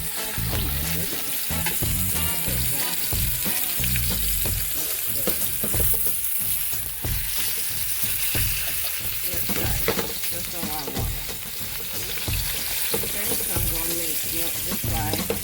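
Three pork chops sizzle and fry loudly in oil in a pot, a steady dense crackle running throughout with occasional utensil clicks and movement.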